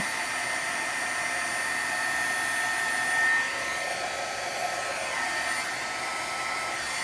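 A hair dryer or heat tool blows steadily on wet abstract watercolor on card, a constant broadband whoosh running the whole time with no talk.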